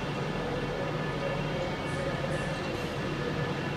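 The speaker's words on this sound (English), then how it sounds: "Oh, here comes our next train." Train pulling into Glasgow Central railway station, an SPT service, heard as a steady rumbling roar with low hum and faint squeals, continuous and fairly loud throughout.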